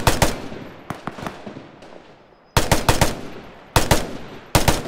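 Gunfire in Roblox Fireteam comes in loud, close bursts of rapid automatic shots, with a long run near the start and three more sharp volleys later, all heard without any talking.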